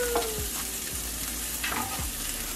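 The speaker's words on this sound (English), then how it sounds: "You still hear sizzling." Corn sizzles steadily in a hot pan, with a few scraping stirs and clinks breaking through the frying hiss.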